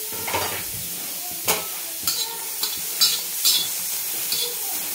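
A whole onion dry-roasted in a pan with no oil, sizzling steadily. Occasional scraping and stirring knocks from a spatula break in now and then.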